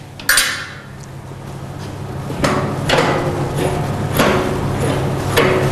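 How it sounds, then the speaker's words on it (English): A ratchet strap on an industrial drum rotator is released with a few sharp metallic clicks and clanks over a steady low machinery hum, close by. "Next thing we need to do is release the ratchet first."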